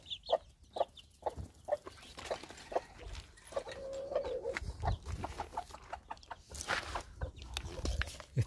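A criolla hen that lays green eggs clucks repeatedly in short, irregular bursts, close by, with soft rustling and other farmyard noise in the background.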